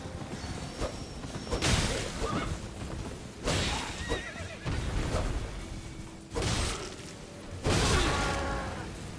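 A horse in the video game Elden Ring neighs and whinnies several times over galloping hoofbeats and whooshing movement during mounted combat, loud and close, with bursts of louder action throughout.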